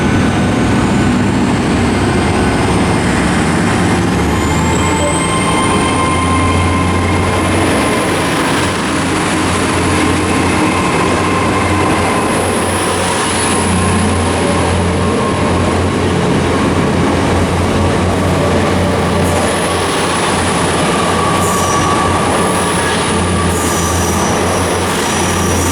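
A train pulls out of Truro station bound for Penzance, a loud continuous rumble of wheels on rails with high sustained squeals and a rising whine as it gathers speed.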